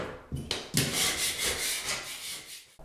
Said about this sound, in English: Scrape down the entire surface first.